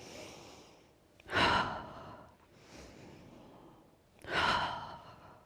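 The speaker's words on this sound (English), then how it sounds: "let them go using that strong exhale" Two strong, breathy exhales during a yoga session for neck and shoulder relief, released as the arms drop; each is a loud whoosh with a quieter breath between them, and no talking.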